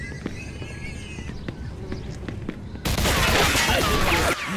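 Video game gunfire in Mafia 2: sparse scattered shots at first, then a sudden loud, dense burst of rapid fire that cuts off near the end.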